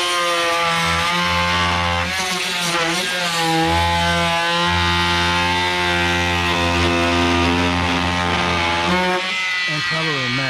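Rockwell Sonicrafter oscillating multi tool cutting into old weld, a loud, steady buzzing drone with a harsh, rasping edge that carries on almost without a break, close up.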